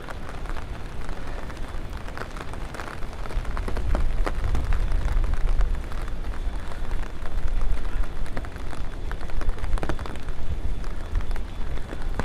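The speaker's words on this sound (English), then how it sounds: "let's enjoy some rain sounds" Steady, dense rainfall pattering on a surface in New York City during a winter storm, a continuous broadband wash with slight swells in intensity and no voices.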